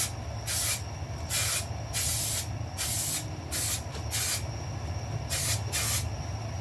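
Raptor Liner 1K coating sprayed from an aerosol can onto an e-bike frame: about eight short, loud hissing bursts with brief pauses between them, close by, over a low steady background rumble.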